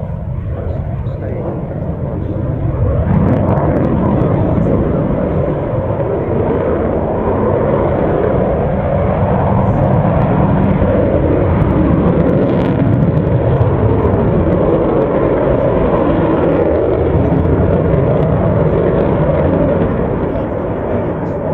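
A loud, continuous roar of a large airplane passing overhead at the RIAT Fairford air show, a steady heavy engine rumble that swells and holds for about twenty seconds.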